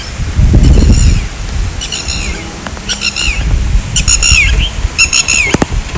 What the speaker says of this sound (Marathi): पाऊस पडल्यामुळं असं पक्ष्याचा आवाज आला